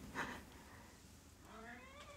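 A cat meows twice, a short chirp followed by a longer wavering meow, soft and slightly distant in a quiet room.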